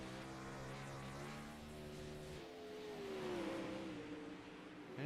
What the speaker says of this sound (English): Awesome sound of that 360 sprint car working around Knoxville Speedway.